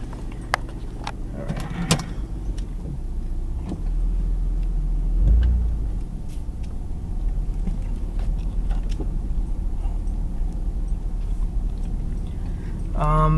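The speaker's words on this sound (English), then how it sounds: "Just take it out for a nice little test drive, and hopefully there's no issues." A Mitsubishi 3000GT on a test drive, its engine giving a low steady rumble from inside the cabin, with scattered clicks and rustles of movement near the start and a brief rise in engine noise midway.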